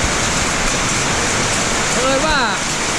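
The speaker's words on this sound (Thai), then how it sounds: "เผอิญว่าตอนนี้ฝนตกนะครับแรงมาก" Heavy rain pours steadily outside a house, a dense, constant wash of noise filling the scene; a short high whistling or chirping sound briefly rises above it near the end.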